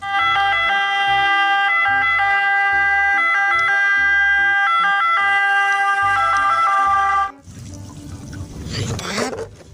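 An electronic toy ambulance siren plays a loud, repeating melodic wail pattern close by for about seven seconds, then cuts off abruptly, followed by splashing and rustling noise from the toys being washed.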